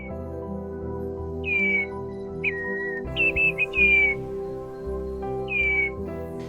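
A common redshank calls on the shore with several clear, descending whistled notes, some single and some in quick pairs, spaced across a few seconds over a steady, low tonal background.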